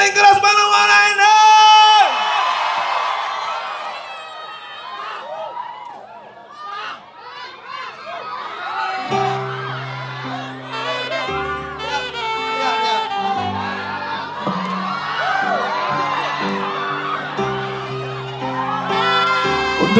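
A concert audience in Muara shouts, whoops and cheers in a loose roar while a singer's amplified voice and a keyboard-driven band carry on over them.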